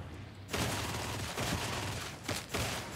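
A continuous heavy stream of gunfire fills a Warhammer 40K: Darktide mission, loud, dense and unbroken, with a few heavier bursts near the end.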